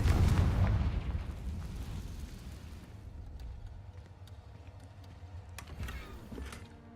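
A Confringo blasting spell explodes in the video game Hogwarts Legacy, opening with a loud booming burst that fades into a long rumbling decay, followed by scattered faint crackles and small pops.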